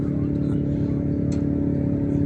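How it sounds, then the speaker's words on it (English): A car engine revving steadily and loudly at a Nevada lake, a continuous low rumble throughout with a voice talking faintly underneath. "There's always one idiot that has to rev his engine so everybody in the whole lake can hear it."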